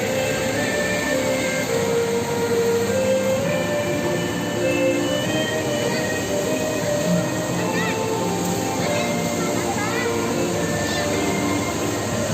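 A steady mechanical rumble with rolling, squealing metallic tones from a moving cable car in Indonesia, with voices talking nearby.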